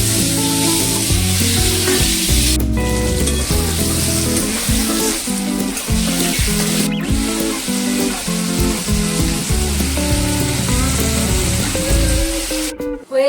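Prawns and pointed gourd sizzle steadily in a hot pan for a Bengali potol chingri dish, a continuous loud frying hiss with frequent stirring clatters and no talking.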